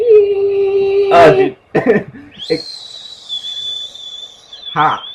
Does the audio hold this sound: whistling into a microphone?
yes